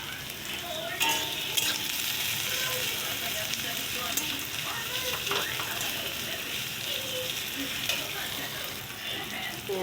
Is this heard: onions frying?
yes